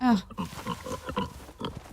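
A pig in a video game lets out a few quick grunting oinks, interleaved with a player's voice talking over the game sounds at moderate volume.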